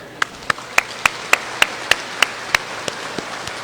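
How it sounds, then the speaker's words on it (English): Applause for volunteers at an opening ceremony, heard here as a lone set of sharp, evenly spaced claps, about a dozen in a steady rhythm, close and distinct over a quiet background. "can we please give a round of applause to all of our volunteers"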